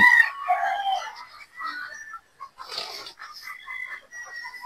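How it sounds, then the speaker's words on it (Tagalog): Boston Roundhead gamefowl pullets in a farm pen give off a busy, overlapping run of clucks and squawks. Several birds call near and far at once, with no talking over them. "So, yan po yung ating mga pulit. Mga Boston Roundhead."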